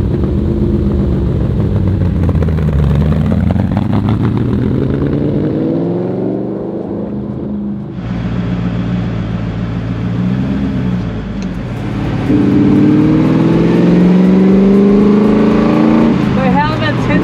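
A rare Ford GT40 race car engine rumbles and revs loudly up close at Clark Speedway, its pitch sweeping up and down with sharp changes of throttle, while a person talks over it at points.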